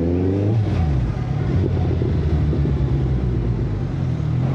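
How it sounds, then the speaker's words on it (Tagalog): A Suzuki Hayabusa 1,340 cc motorcycle engine hums steadily while riding with the helmet visor open, a loud, continuous low drone with rising harmonic sweeps early on and constant wind rush. "Kaya iba yung ugong ng motor kapag nakabukas yung visor."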